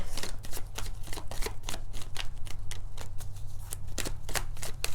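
Tarot cards are shuffled in a steady run of crisp, rapid riffling flutters that repeat close up for the whole stretch, over a low constant hum.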